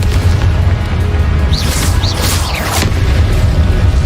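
Several booming spell blasts from Confringo in Hogwarts Legacy, sounding as dull low thumps with a few brief whooshing swishes layered over a steady loud rumble, with no clear gaps between them.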